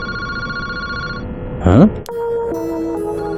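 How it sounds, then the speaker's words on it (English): An old-style telephone bell ringing in the horror mystery game Paranormasight, a sharp, loud burst of ringing that starts and stops abruptly, with a brief spoken reaction and electronic game tones around it. "Boss, that phone is ringing."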